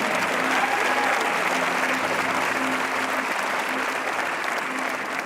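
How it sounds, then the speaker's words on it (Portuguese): An audience claps loudly and steadily at a talk event, with dense, sustained applause filling the whole stretch and a few faint voices mixed in. "Pode aplaudir"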